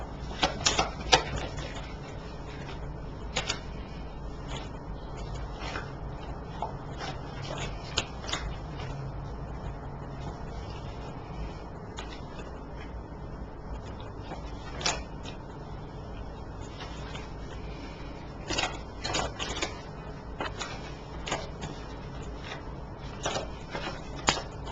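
Playing cards shuffled repeatedly in the same direction, giving faint, steady riffling with sharper flicks and snaps scattered through; no talking.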